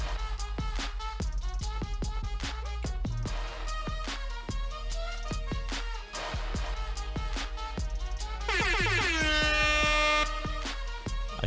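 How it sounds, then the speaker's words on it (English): A thumping, rhythmic music beat plays throughout, then a loud, blaring air horn blast cuts in near the end and holds for about two seconds. "I apologize for the mid-intro air horn."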